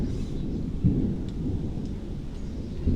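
Steady rain hisses beneath a low continuous rumble of thunder, dense and fairly loud throughout with no voices.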